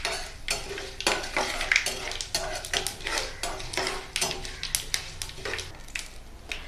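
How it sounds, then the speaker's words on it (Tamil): A spoon stirs spices with asafoetida in a pan for Tamil mango pickle, making steady close scraping and clinking against the metal over a faint sizzle, with no talk over it. "இப்போ இதை ஒன்றா நல்லா கலந்து விட்டுடலாங்க."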